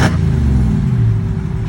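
A car engine revs in a loud, deep, steady rumble close by, filling the short moment without talk.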